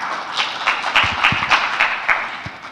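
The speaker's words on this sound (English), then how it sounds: "Please give him a warm applause." An audience at an automotive forum in Tunisia claps, a moderate, fairly sparse applause of separate hand claps at mid distance, steady for a few seconds without voices.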